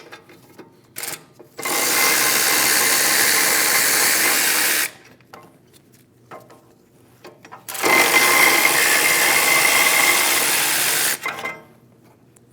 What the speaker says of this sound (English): Using a 16mm socket, remove the 2 caliper bracket bolts.